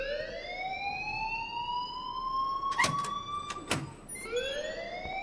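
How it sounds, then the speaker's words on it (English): In the video game Life is Strange Remastered, a school fire alarm whoops in long rising siren tones, steady and fairly loud, with a couple of sharp clatters partway through. "please turn off that alarm since that's your job"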